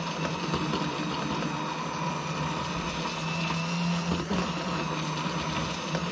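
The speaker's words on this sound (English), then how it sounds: "The longer you whiz it, 1 to 2 minutes, the more air you're going to incorporate and the thicker it will get" A blender steadily whizzing a diet shake mix, a constant loud whirring motor drone that holds without break throughout.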